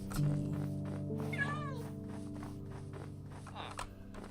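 Cat meows from the Minecraft video game, a short rising-falling call near the middle over a steady game music bed, with a fainter second meow near the end.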